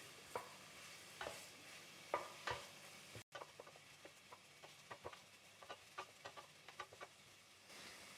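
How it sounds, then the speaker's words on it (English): Dried curry leaves and onion frying gently in a pan, a soft low sizzle with scattered faint pops and occasional stirring taps, fairly quiet and close. "I'm also going to add some dried curry leaves to fry up with the onion."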